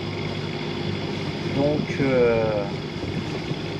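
A sailboat under sail with engine assist in light wind, pushing against a current, gives a steady low motor drone mixed with wind rush; a single spoken word is heard over it.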